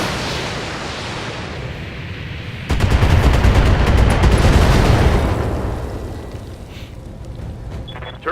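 Weapon fire and a turret-destroying explosion from the mech combat game Battletech: a low roar and rumble bursts in sharply, rattles on loud for a few seconds, then slowly fades into a dull hum, with no talking.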